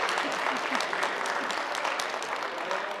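Audience at a college meeting and awards ceremony clapping, with a dense, steady round of applause from a room full of people, moderately loud throughout.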